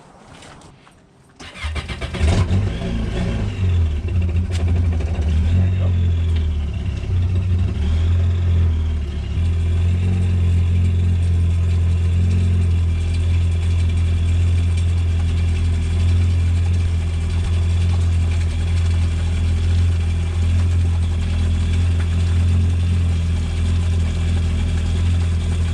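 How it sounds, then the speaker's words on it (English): A personal watercraft (jet ski) engine on land cranks and catches after a short pause, then runs at a loud, steady idle with a deep, constant drone throughout. "So let's go ahead and start the ski."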